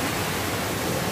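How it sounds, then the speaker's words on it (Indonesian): A loud, constant rushing roar of falling water fills the short stretch, broad and unbroken, from a waterfall right beside a footpath and bridge at Kampung Daun, Lembang, Bandung. "Air terjun ada di sebelah kita."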